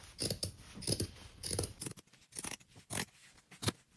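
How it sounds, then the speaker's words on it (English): Sharp scissors snip straight across fabric marked for a clothing alteration, with several crisp, close cuts in a steady rhythm and no talking. "now I can cut straight across on our marks"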